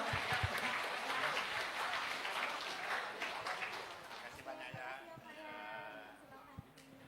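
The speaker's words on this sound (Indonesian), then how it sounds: "Oke, kita beri tepuk tangan dulu teman-teman semua." Applause from the audience at a university new-student orientation event in Palembang: a dense patter of many hands clapping at moderate distance, thinning out toward the end while a voice speaks over it.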